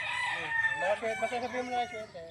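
Sweater breed chickens at a backyard poultry seller in Batangas, with a rooster crowing loudly up close amid clucking from the flock, the calls overlapping in a short busy burst.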